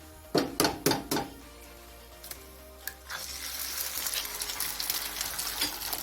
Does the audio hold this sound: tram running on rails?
no